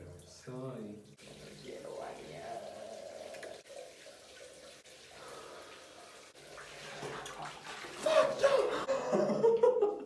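Shower water running late at night in a bathroom, a steady hiss that continues throughout while someone talks and laughs over it.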